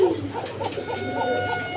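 A pair of Koka pigeons coo close by in a short series of soft, evenly pulsing calls at a steady rhythm.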